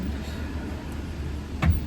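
A car pulls in, heard as a low, steady engine rumble at moderate distance, with a short thud near the end.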